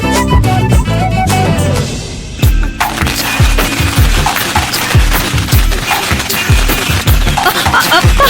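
Rapid bursts of firecrackers crackle and pop loudly in an irregular string during an outdoor celebration, with sharp cracks and booms continuing for several seconds and voices faintly mixed in.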